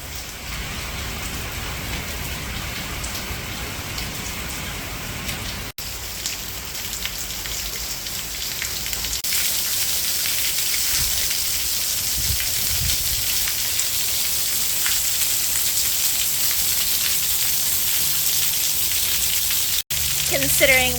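Heavy rain and wind from a major Florida hurricane roar continuously, a dense hiss that swells louder partway through, with brief dropouts and a few muffled background sounds.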